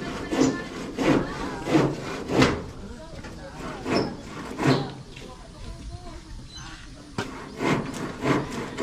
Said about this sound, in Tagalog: Malambot naman ang lagaring kasi ano na yung kahoy.